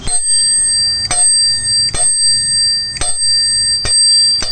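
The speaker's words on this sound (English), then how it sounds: "this is how the cool vintage bell looks like" A bright metallic Decathlon classic vintage-style bicycle bell rings in five sharp strikes spaced about a second apart, each leaving a sustained ringing tone, close and loud.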